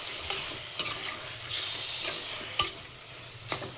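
Chicken mixture seasoned with turmeric being stirred for Hyderabadi haleem, a spoon scraping in a few distinct strokes against a steady low background hiss, close and fairly quiet, no talking.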